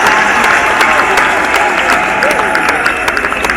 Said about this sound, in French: Acclamons très fort pour la gloire de notre Seigneur Jésus-Christ.